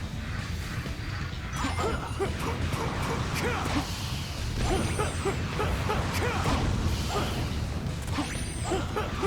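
Enemy dog barks and yips in Sonic the Hedgehog (2006) amid busy, loud action noise and whooshes, with occasional talking mixed in.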